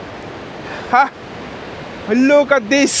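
The Calandula waterfall in Malanje, Angola roars as a steady, broad wash of falling water, while someone speaks excitedly over it in short bursts.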